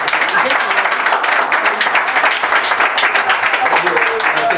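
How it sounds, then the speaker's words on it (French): A crowd breaks into loud, close, continuous applause, dense clapping filling the room with voices mixed in. "Bravo, on applaudit."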